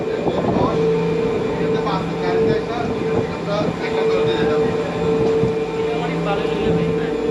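Ride in a cable car at the Amirsoy mountain resort in Uzbekistan, a steady mechanical rumble with a sustained hum running throughout, close and continuous, with people talking over it.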